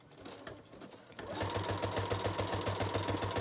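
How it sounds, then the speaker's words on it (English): A sewing machine stitches around a composition book cover. After a quieter stretch, it starts up and runs a steady, fast, evenly pulsing stitch close by. "You could stitch around it as many times as you want to."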